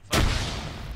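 Grenade blast in ARMA 3, a single sudden loud boom that hits hard and then rolls off into a lingering rumble within about a second.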